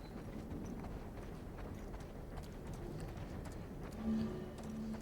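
Horse hooves clip-clopping in a video game, a steady rhythmic patter of hoofbeats at moderate distance under a dense game ambience, with no talk.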